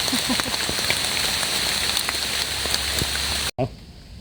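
Steady rain pattering on a surface in a forest, a dense constant hiss of drops close by, cut off abruptly near the end.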